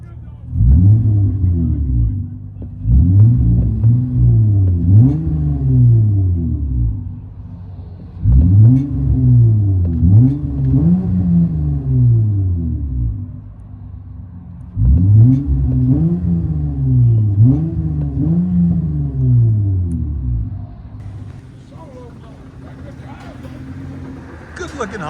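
Throaty straight-piped exhaust of a 2008 Honda Accord with a 3.5L V6 and adjustable lowered suspension, heard from inside the car: repeated loud rising-and-falling rev sweeps in four bursts, close and dominant, with a quieter idle near the end.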